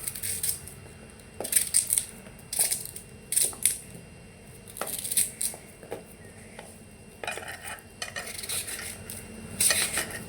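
Elephant foot yam is sliced by hand, giving sharp, irregular knife clicks and scraping strokes in uneven bursts, close and moderately loud with pauses between cuts.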